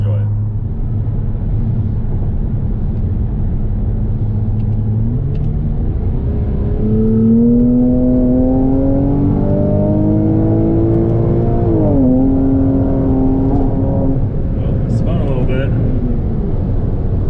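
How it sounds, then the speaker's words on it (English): Porsche Cayman S fitted with a catless race exhaust, a steady close engine drone that climbs in pitch as the revs rise, then falls back and settles, with a faint voice mixed in. "Porsche Cayman S with the Porsche CATLESS race exhaust"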